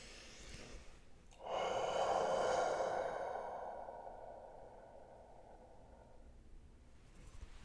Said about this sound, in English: breathing that out breath, then breathing back in again through the nose